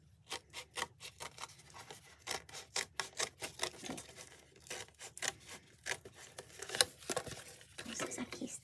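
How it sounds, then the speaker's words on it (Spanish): Scissors snipping through fabric while shaping pieces for a rose garland: a close, quiet run of short crisp cuts and rustles in uneven rhythm, with soft handling noise between snips. "Estoy cortando de esta manera para que me quede marcado para cuando me toque coser."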